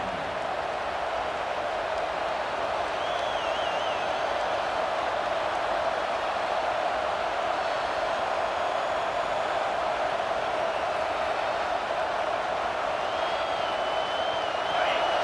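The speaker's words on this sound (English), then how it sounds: "This crowd bringing the energy and noise early" Crowd noise fills a college football stadium in EA Sports College Football 26, a constant dense roar that holds at one level throughout, with faint whistling rising above it now and then.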